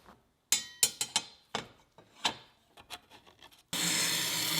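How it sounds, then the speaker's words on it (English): A metal sword part is scrubbed with an abrasive Scotch-Brite pad. Several short, separate rasping strokes are followed by a steady, louder, hissing scour near the end. "I'm just cleaning this off. I've just Scotch-Brited it all and made it all shiny."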